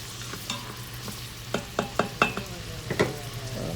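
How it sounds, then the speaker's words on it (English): Chili ingredients, including jarred garlic, are mixed in an Instant Pot: quiet close scraping and a run of sharp spoon clinks against the pot, with a faint low hum underneath. "So now we really mix them."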